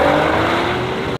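A Nissan GT-R sports car engine drones loud and steady for about a second, a dense mechanical roar that cuts off abruptly at the end.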